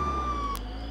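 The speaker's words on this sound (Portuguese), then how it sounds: "A sirene ligada é boa, que os carros param todos e não me ultrapassam," A steady electronic police siren tone in the video game Contraband Police holds for half a second, then cuts off abruptly, with a low engine hum underneath.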